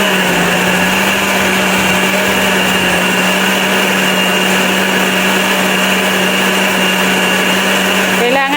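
A blender grinds mushrooms to a fine pulp for mushroom soup, running as a loud, constant, high-pitched motor whir that stays steady throughout, then cuts off sharply at the very end.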